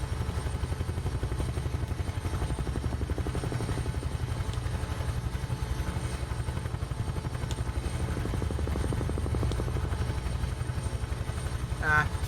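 A Bell UH-1H Huey helicopter in Microsoft Flight Simulator drones continuously, its turbine engine and rotor beating in a steady rhythmic thump that stays loud and constant.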